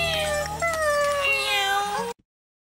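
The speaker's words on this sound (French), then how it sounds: "Les louveteaux miaulent?" Cartoon wolf cubs let out a drawn-out, cat-like meow with wavering pitch, loud and close, cutting off abruptly into silence.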